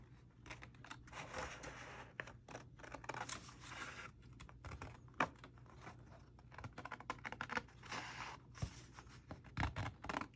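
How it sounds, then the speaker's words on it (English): Scissors snip paper in quick, quiet close cuts along a score line for a small paper craft album, with faint crisp clicks and no talk. "I'm going to cut in the center of my score line very carefully"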